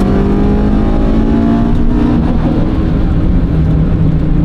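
A front-wheel-drive car accelerating at full throttle in a 0–100 sprint, a loud, continuous engine roar climbing steadily in pitch, heard up close without a break.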